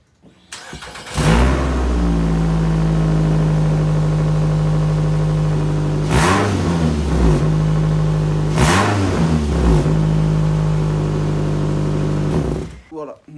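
Nissan Altima coupe engine with a blown muffler, idling loud and raspy in an enclosed space, with three sharp revs that rise and fall in quick succession before it settles again.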